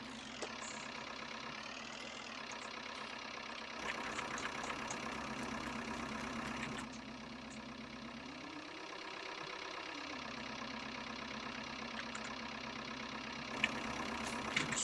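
A Fordson Super Major tractor engine idles steadily on a farm in 1961, a continuous mid-low diesel rumble with a brief dip in pitch partway through and no talk.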